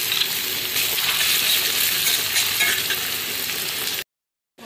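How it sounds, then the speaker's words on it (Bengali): Onions frying in mustard oil, a dense, continuous close sizzle with crackling and some stirring, alone without talk, cutting off abruptly into silence near the end. "Pyaaj khini moi bhalke bhaji lom."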